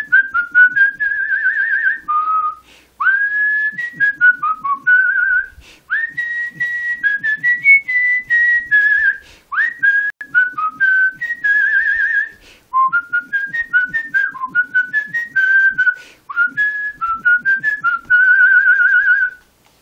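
A man whistles a patriotic tune, Yankee Doodle Dandy, solo and close, in clear melodic phrases with brief pauses between them.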